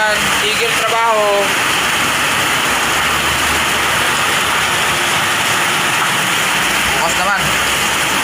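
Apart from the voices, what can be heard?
rain falling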